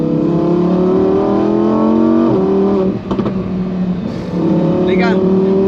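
A Lamborghini Huracán Performante Spyder in sport mode, its engine droning loud and close with rising harmonic sweeps as it revs and shifts, a brief dip near the middle, and a voice talking over it throughout.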